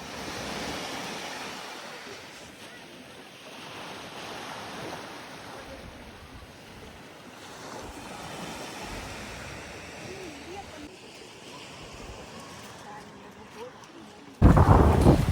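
Sea waves wash continuously onto a beach in Odessa, a broad steady rush of surf mixed with wind, ending in a sudden louder gust or rumble.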